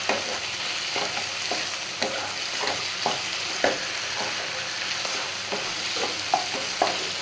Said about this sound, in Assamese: এতিয়া মই এনেকৈ অলপ সময় ভাজি থাকিম